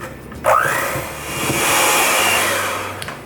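An electric mixer whirs loudly and steadily up close as it blends egg and vanilla into white chocolate candy corn brownie batter, starting abruptly with a rising pitch and running without a break, with no talking.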